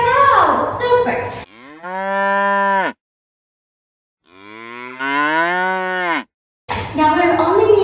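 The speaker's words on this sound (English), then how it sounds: "Yes, it's a cow." Cow mooing loudly and up close, two long drawn-out lowing calls separated by a brief silence, with short bursts of other sound at the start and end.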